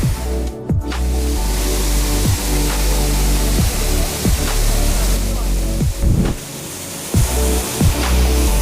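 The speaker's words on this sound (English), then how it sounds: "This is the on top part of this waterfall." Up near the top of Tirantha Waterfalls, rushing water makes a loud, continuous broadband roar close by, with recurring low thuds and rumbles, likely wind buffeting the microphone, breaking through the flow.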